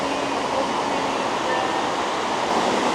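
Raging waterfall in a narrow Austrian Alps gorge, a dense, unbroken roar of crashing water heard close and loud for the whole stretch.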